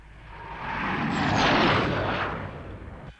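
A Fireflash airliner from Thunderbirds passing in flight, a broad roaring jet rush that swells to a peak in the middle and fades away over a few seconds.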